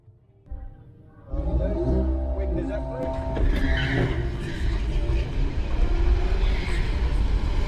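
A Tesla Model 3 with acceleration boost launches in a drag race against a Polo GTI, rising from quiet into a loud, sustained roar of tyre and road noise with a high whine, while people talk over it.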